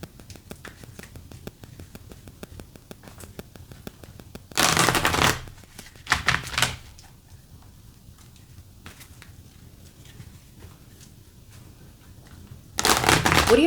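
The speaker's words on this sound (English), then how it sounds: "I'm going to pull a Colette Baron Reid card here." Colette Baron Reid oracle cards are shuffled by hand, with a steady flutter of riffling, two louder bursts of cards slapping together, a quieter stretch of soft handling, and a final loud shuffle.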